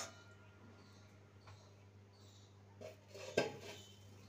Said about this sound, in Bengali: এবারে এটাকে ঢাকা দিয়ে লো টু মিডিয়ামে রেখে হতে দেব